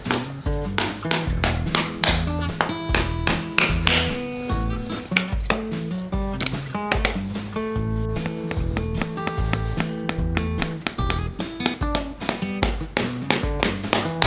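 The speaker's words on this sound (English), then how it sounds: "I'm using the old Yukon Forge Edward Martin style driving hammer to nail these shoes up." A driving hammer, an old Yukon Forge Edward Martin style, taps nails through shoes into a big Percheron horse's hoof: a steady run of close, sharp metallic strikes with ringing clinks, no talk over them.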